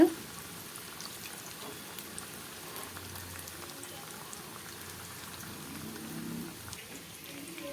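Quiet, steady crackling and spitting of bitter gourd frying in hot oil, a soft rain-like patter that continues throughout.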